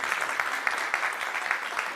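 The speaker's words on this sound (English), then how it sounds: "Let's give Danny Perez a round of applause here for a million things." A book launch audience applauds, a moderately sized crowd clapping steadily at close range with distinct individual claps audible in the mix, sustained for the whole stretch without speech.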